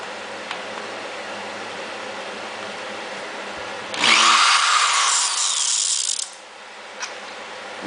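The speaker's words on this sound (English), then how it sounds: "And get it drilled through." A power drill whines loudly for about two seconds, grinding through oiled metal on a GM G-body 10/12-bolt rear axle, then stops, leaving a quiet background and a brief click.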